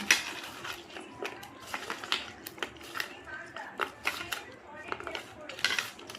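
Lemon mixed with sugar and chili powder by hand in a bowl, with soft repeated squelching and clinking scrapes in an irregular rhythm, close and quiet, with a voice speaking at times.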